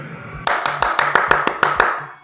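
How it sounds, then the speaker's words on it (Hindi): A small group of people at a gathering about the Purnia airport claps together in a quick, fairly regular burst of about ten sharp claps, close and loud, ending abruptly. "अरे ताली बजाओ भाई, हवाई अड्डा आप लोगों के लिए बना है।"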